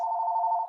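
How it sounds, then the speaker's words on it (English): A telephone rings in the background during a Rotary Club meeting: one short, steady electronic tone held for under a second, clear and isolated with no talk over it. "that's my phone ringing in the background"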